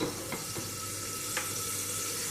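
Ghee sizzles and crackles steadily in a hot pan as it melts, a close, even hiss broken by a few faint clicks, with no talking.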